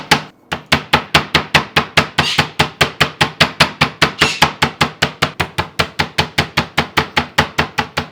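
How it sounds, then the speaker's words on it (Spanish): Steady, rapid thuds of a mallet pounding chicken breasts thin on a board, dozens of evenly spaced heavy blows, close and loud with no talking. "Ahora las voy a martillar un poquito para hacer que se queden lo más finas posible."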